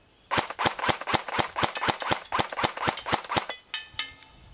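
A DE M89 UMP airsoft gun fires a rapid, evenly spaced burst of about fourteen sharp shots outdoors at a pan target 125 feet away, followed by a faint metallic ring of the struck pan.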